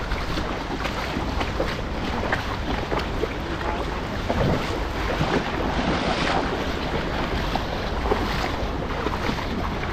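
Strong water current rushing past a fishing boat, a dense steady roar of churning water mixed with wind buffeting the microphone, continuous and loud throughout.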